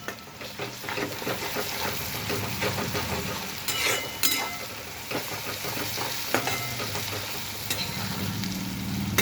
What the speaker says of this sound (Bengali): বন্ধুরা আমি ভালো করে ফ্রাই করে নেব। আদা রসুনের গন্ধটা যখন চলে যাবে 2 মিনিট এরকম ফ্রাই করে নিচ্ছি।